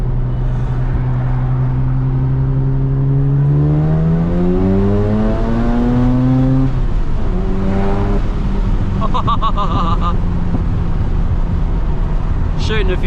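A Mazda RX-7 FD Bathurst R rotary engine revs hard while driving, its harmonic tones rising and falling through gear changes, loud and close from inside the cabin.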